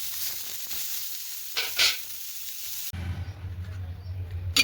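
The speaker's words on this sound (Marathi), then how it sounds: "मिरची छान भाजते, त्याच्यामध्ये लसूण टाकायचं आणि कोथिंबीर पण टाकायची" Green chillies roast in a pan with garlic and coriander, giving a quiet, close sizzle with a brief louder hiss near the middle, then a softer, low-pitched frying murmur.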